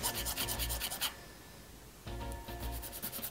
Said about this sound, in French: il faut limer le surplus de plastique. Je vais limer l'autre côté.